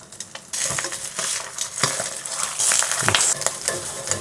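Eggs sizzle and fry in oil in a pan that is not non-stick, with a steady crackle broken by scraping and stirring clatters of a utensil against the pan, close and fairly loud.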